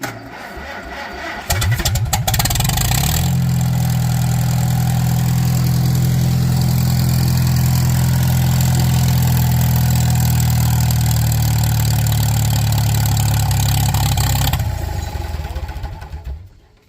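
A previously seized Farmall tractor engine cranks and fires, then runs loud and close with a deep, even idle for about twelve seconds before shutting down.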